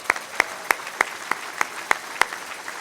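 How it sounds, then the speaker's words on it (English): Clapping at a King County small business awards event comes as sharp, evenly spaced claps about three per second, moderately loud and clear over a quiet room. "a huge round of applause for every single person that's here today"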